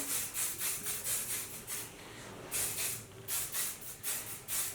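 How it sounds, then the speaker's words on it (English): Short bursts of hairspray hissing in quick repeated pulses as it is sprayed through hair, close by, with a brief pause in the middle before spraying resumes. "Just spray it throughout the hair."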